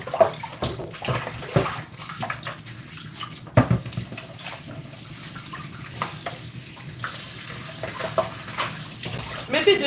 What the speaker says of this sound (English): Let me just put this thing here so I can wash up these plates